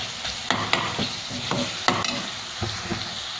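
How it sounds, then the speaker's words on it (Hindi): Black pepper beef mince (kali mirch keema) stir-fried in a pan, with a steady sizzle broken by several sharp scraping stirs at irregular intervals, close and fairly loud, no voices. "और इसको थोड़ा सा और भूनते हैं"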